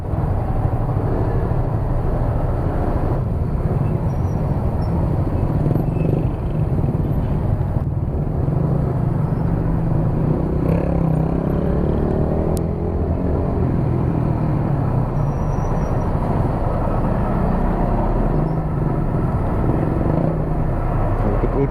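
Congested road traffic with cars and motorcycles: a steady, close engine rumble and idling drone that holds throughout, with a faint voice now and then.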